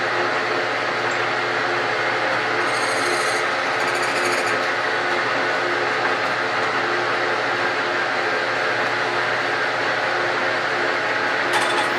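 Continuous mechanical whirring and grinding of a lathe drilling with about 3.5 inches of drill bit extended, loud and steady throughout, with faint metallic squeaks now and then.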